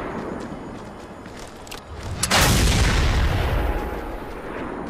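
Shotgun blasts in the Mad Max video game, a broadband boom with a loud burst near the middle that decays over a few seconds above steady game noise.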